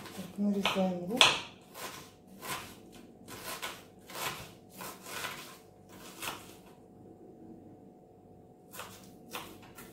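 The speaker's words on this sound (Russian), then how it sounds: "Нарезаем лук." Rhythmic knife chops through an onion on a cutting board, about a dozen strokes at an even pace, close up, with a pause near the end.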